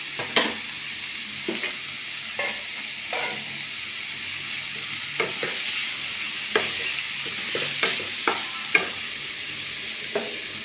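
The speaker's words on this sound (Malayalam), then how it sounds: "നന്നായിട്ട് ഇളക്കി കൊടുക്കുക, മിക്സ് ചെയ്യുക." Onions fry in a pan with a steady sizzle while a spoon stirs them, scraping and clacking against the pan at irregular intervals throughout.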